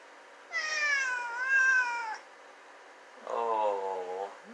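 Two drawn-out cat meows, the first long and wavering, the second lower and shorter after a brief pause, close and clear with no talking.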